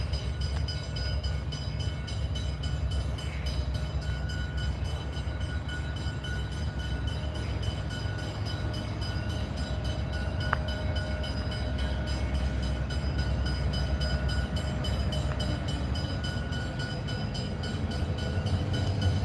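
A Southern Short Haul Railroad freight train rolling past at Junee gives a long, steady, low rumble with faint sustained tonal whines, heard from a moderate distance throughout with no talk.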